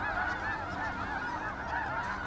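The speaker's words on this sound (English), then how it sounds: "Look at all those geese." A large flock of snow geese honks overhead during a hunt in Manitoba, countless overlapping calls forming a loud, continuous chattering chorus with no talk over it.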